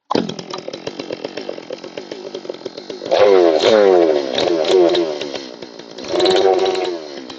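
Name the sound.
chainsaw revving with chain brake on, G111 clone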